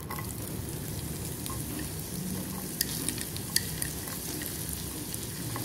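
Onions sizzling steadily in melted butter in a pan, a dense continuous frying hiss with a few small pops, close and without talk.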